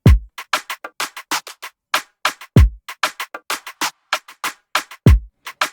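Afrobeat drum pattern programmed in FL Studio, with deep booming kicks about every 2.5 seconds under a busy, syncopated run of crisp percussive hits and snares, loud and dry with no voices.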